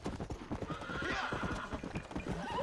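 Horse hooves clip-clop steadily in the Wild West video game Red Dead Redemption, a close, rhythmic run of hoofbeats with a horse whinnying, continuous and loud throughout.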